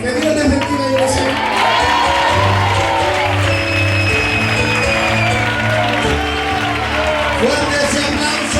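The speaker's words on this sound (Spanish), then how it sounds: "Fuerte ese aplauso para Dios." A church youth service congregation applauds and cheers in a sustained wash, with whoops over the clapping and a low musical tone running underneath.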